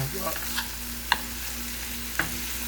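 Chickpeas stirred into onions and garlic frying in a pan for vegan curry, a gentle steady sizzle broken by three sharp spoon taps against the pan, close and without talk.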